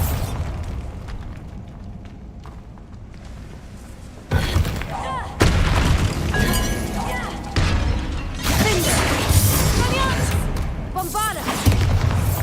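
In a Hogwarts wizarding video game, Bombarda explosion spells go off in repeated heavy blasts with shattering debris. Loud booms land every few seconds over a rumbling game soundscape.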